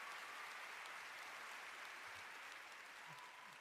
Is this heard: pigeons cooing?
no